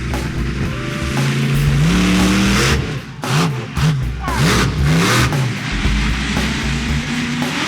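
The Swamp Thing monster truck's engine roars loud and close, revving up and down in rising and falling surges, with heavy thuds and bursts of noise as it goes for a jump.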